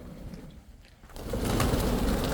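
At a 112-foot stepwell, soft pigeon cooing sounds faintly at first, then a louder rush of wingbeats or rustling fills the space; no talking.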